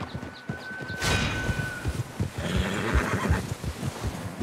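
A horse in the video game Red Dead Redemption 2 whinnies loudly and close, then hooves clip-clop and thud repeatedly, with a rumbling, busy background.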